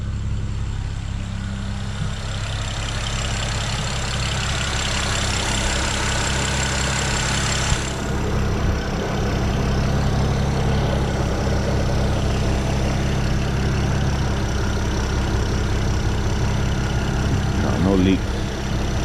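A BMW E92 idles steadily after a cold start, running a little high with a constant low engine drone throughout, close and continuous with little variation.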